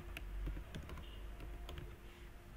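Keys pressed on a computer keyboard for a Shift and Alt combination, a short run of close, light taps and clicks with no talking.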